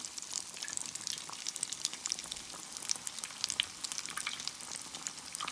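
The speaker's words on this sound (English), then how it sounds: "They're frying nicely, look at that." Batter-coated eddo balls fry in hot oil with a steady, crackling sizzle and frequent small pops, close up and without voices.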